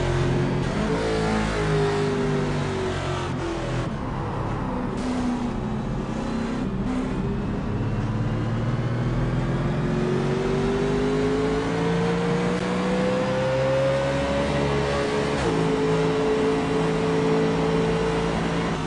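Race car engines in iRacing at the Coke 600 build up and rise steadily in pitch as the field gets back on the gas after a wreck, with a constant loud drone and no talk.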